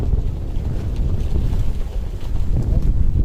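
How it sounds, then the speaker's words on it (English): Wind picking up on a Tokyo street walk roars steadily against the microphone in a dense low rumble, swelling slightly toward the end with no clear voices. "Wind is picking up. Not sure if you can hear that, but it's getting quite windy."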